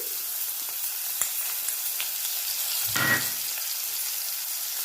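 Chopped onion and hing hit hot oil with frying spices for a potato curd curry, giving a steady close sizzle with a brief louder hiss and crackle about two-thirds through.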